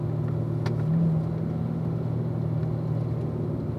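A car runs a track lap held in fourth gear, its engine a steady mid-pitched hum with a slight swell early on, moderately quiet and continuous with no talk.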